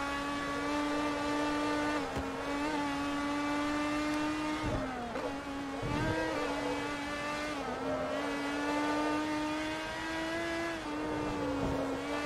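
Race car engines in Forza Motorsport 3 drone loudly and continuously, pitch rising and dipping through gear changes and braking, with brief shifts and passes throughout and no talk.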